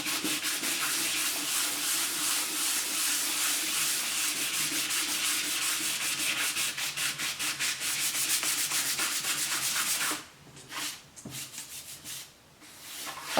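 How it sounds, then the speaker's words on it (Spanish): A glossy surface is rubbed down with an abrasive sponge in fast, steady back-and-forth strokes that stay loud and close, then break into a few slower, separate passes near the end. "Con la esponja abrasiva vamos dándole caña hasta que veamos que haya llegado a ese punto"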